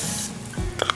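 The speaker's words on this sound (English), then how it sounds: "you want to spray some cooking oil in it" Olive oil cooking spray hisses into a pan in one short burst, close and fairly loud, followed by a faint drip-like squish.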